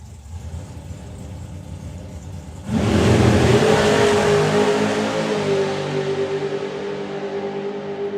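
Drag racing cars at the STP National Finals accelerating down the track: a low engine rumble suddenly bursts into a loud, sustained roar that slowly fades as the cars pull away.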